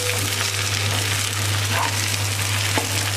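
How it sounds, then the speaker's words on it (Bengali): Shrimp fry with freshly added coriander leaves sizzling in a pan as it is stirred, a constant dense crackle close and loud with a low steady hum beneath. "এখন আমি একটু ধনে পাতা দিয়ে দিলাম, তো আমি 1 মিনিট মতো নাড়াচাড়া করেই নামিয়ে ফেলবো"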